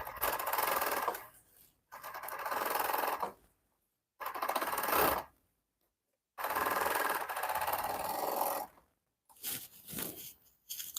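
A sewing machine stitches pants in several bursts of steady, fast mechanical whirring, each run stopping with short pauses of near silence between.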